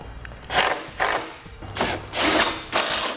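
A hand ratchet tightens hardware on a core support during a Roadmaster crossbar-style base plate install on a 2013 vehicle, giving five loud, evenly spaced clicking bursts up close.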